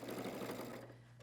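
A sewing machine stitching forward and backward on a pair of pants, a fast even motor whir with rapid needle chatter that stops near the end, close but fairly quiet.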